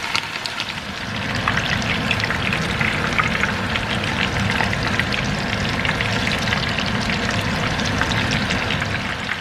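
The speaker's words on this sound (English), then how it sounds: "When the oil is heated, we can add our chicken." Steady crackling sizzle of chicken for katsu frying in hot oil, close and continuous, growing a little louder after the first couple of seconds.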